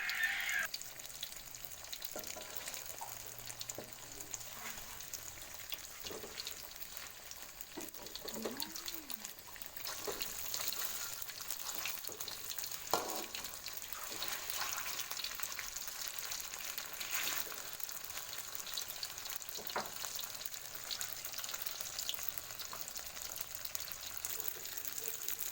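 Papaya-filled pempek fry in hot oil and get turned over, making a steady, even sizzle that runs on at moderate volume with occasional soft clicks and a faint voice at the start.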